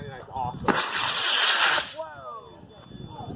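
Model rocket launching after a countdown at a Tripoli Houston event: a loud rushing roar that starts abruptly, lasts about a second and a half, then cuts off, amid voices and outdoor background.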